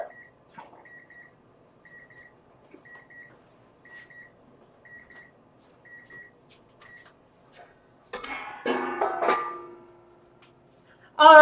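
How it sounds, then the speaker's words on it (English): A kitchen timer beeps in a steady repeating pattern of short high tones at a moderate distance, followed by clattering and a voice near the end. "Sorry about the timer."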